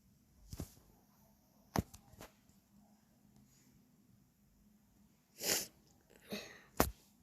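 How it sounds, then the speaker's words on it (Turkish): A person with a blocked nose sneezes and sniffles in a quiet room, with several short sharp bursts spread apart and a louder sneeze near the end. "Hapşırıyorum."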